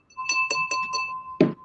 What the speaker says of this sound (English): Ring that bell, huh? Ring that bell.